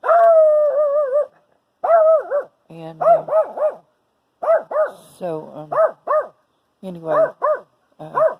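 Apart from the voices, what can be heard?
dogs barking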